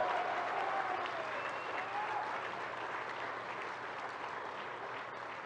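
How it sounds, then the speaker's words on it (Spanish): A crowd applauds the president at a public event in Campeche, steady dense clapping that holds at an even level throughout, with faint voices mixed in. "un aplauso al presidente desde aquí hasta Palenque"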